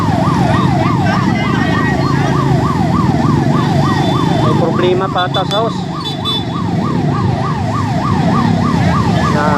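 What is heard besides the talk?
fire truck siren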